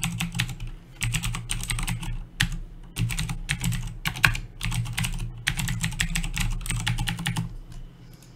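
Rapid clicking of keys on a computer keyboard as a URL is typed, steady bursts of keystrokes with short pauses between runs, close and clear with no talking.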